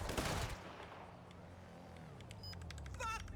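Gunfire in a GTA roleplay game: a loud opening blast followed by rapid crackling bursts of shots later, heard alongside engine rumble and game sounds.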